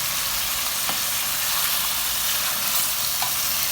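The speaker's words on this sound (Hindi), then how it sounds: "और मटन डाल के इसको हम भूनेंगे।" Mutton pieces frying in hot oil with garlic paste for Kabuli pulao, a dense, loud, steady sizzle with faint stirring scrapes, heard close up and alone.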